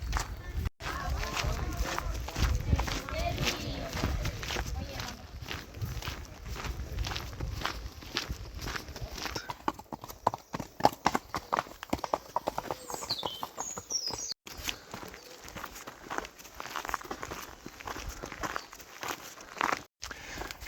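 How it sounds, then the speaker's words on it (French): Guardia Civil horses walk along a path, hooves clip-clopping in a steady repeated rhythm that comes close and then fades. People talk faintly in the background. "J'avais encore jamais vu la Guardia Civile à cheval sur cette partie du chemin."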